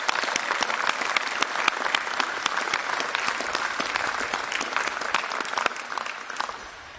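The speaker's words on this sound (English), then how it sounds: "Let's give a big round of applause for all the 2024 graduates." Dense, steady applause from a large audience for 2024 graduates at a graduate school commencement ceremony, many hands clapping continuously before tapering off at the very end.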